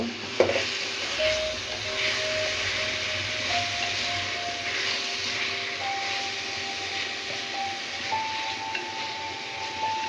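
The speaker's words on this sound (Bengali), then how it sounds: "এটাকে এখন ভালোভাবে নেড়ে মশলাটা মাখিয়ে নেব" Prawns are stirred into masala in a pan for prawn malai curry, producing a steady, close sizzle and hiss with soft scraping throughout, plus a faint rising whistle-like tone in the background.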